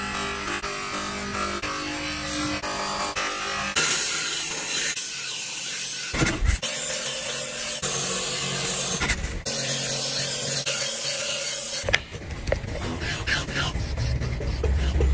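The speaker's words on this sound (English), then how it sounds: "onto the polisher." A knife blade is worked on a polisher, giving a continuous close rasping, hissing grind broken by a few short pauses and shifts in pressure.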